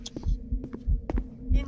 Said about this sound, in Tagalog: Narinig mo? Yung tibok ng puso